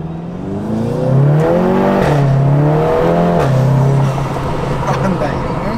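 A 2020 SEAT Leon Cupra engine in Cupra mode, humming and revving in steady, rising tones close by while people talk over it.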